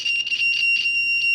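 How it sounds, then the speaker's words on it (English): A continuity tester beeps while an audio cable is checked: a high, steady electronic buzz pulses on and off in quick short bursts, close and clear, with no talking. "And we can hear the buzzer."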